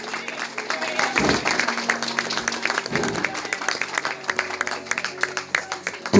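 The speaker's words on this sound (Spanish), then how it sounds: "Dale aplauso al Rey, por favor." Congregation at a live evangelical service in Otuzco, Cajamarca, breaks into steady applause. Dense clapping fills the room with low musical tones beneath and a few heavier thumps.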